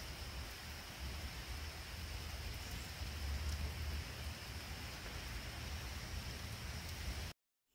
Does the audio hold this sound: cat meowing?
no